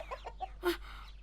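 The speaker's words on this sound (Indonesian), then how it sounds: "Ayam raksasa." A giant cartoon chicken clucks in a few short, close vocal bursts, with one louder squawk near the middle before trailing off.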